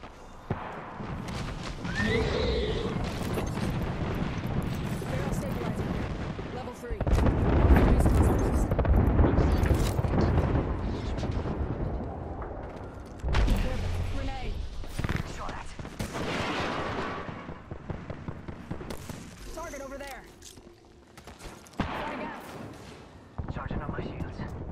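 Artillery barrage explosions from a video game, heavy booming bursts and rumbling fire coming in repeated waves across the span, loud and dense, with game voice lines and talk mixed in over parts of it.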